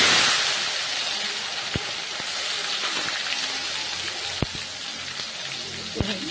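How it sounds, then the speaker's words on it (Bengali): Tomatoes hitting hot oil in a pan while a Bengali prawn masala curry is cooked, giving a steady, loud, close sizzle with a few sharp pops scattered through it and no talking. "এবার আমি টমেটোগুলো দিয়ে দেব।"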